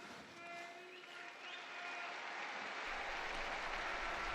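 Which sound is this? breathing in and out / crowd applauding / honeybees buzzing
crowd applauding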